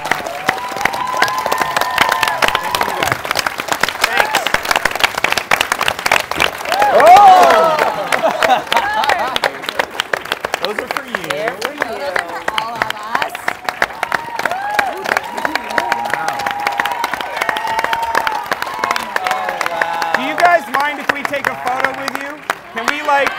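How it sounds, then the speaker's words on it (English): Festival audience at a screening panel event applauds and cheers for a TV series and network, a sustained wash of clapping and crowd noise lasting the whole stretch, with voices mixed in beneath. "I want to ask for one more round of applause for a BBC America and ORPHAN BLACK."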